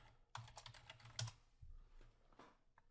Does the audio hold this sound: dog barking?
no